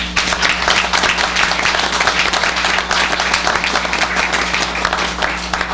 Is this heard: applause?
yes